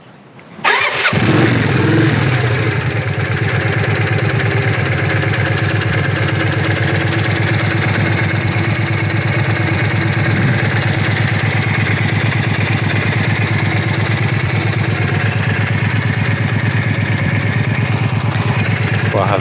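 A Yamaha XV 400 Virago motorcycle engine cranks over and catches after about a second, then settles into a steady, loud, close-up idle with an even low throb that holds for the rest of the recording, with no talking.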